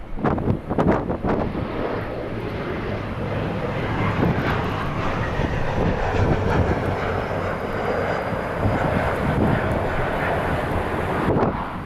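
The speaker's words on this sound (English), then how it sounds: "QF-15 flying in from Brisbane, Australia." A Qantas airliner on flight QF-15 from Brisbane roars in loudly on arrival at LAX, its engine noise sustained and close, with gusty wind buffeting the microphone.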